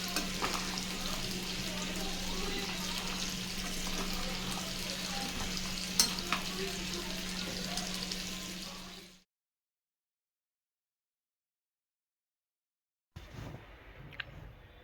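Mutton head curry gravy cooking in a pot gives a steady, bubbling sizzle for about nine seconds, then silence, then a short burst of faint clatter and sizzle.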